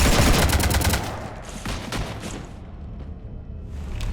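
Rapid volleys of sci-fi weapon fire hammer a ship in Mass Effect 3, a dense loud burst for the first second, then scattered shots and rumbling impacts trailing off.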